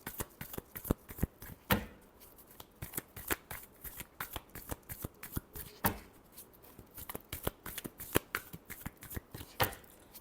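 Tarot cards shuffled by hand, with rapid riffling bursts and sharp slaps repeated in an uneven rhythm. The sound is close and quiet, with no talking.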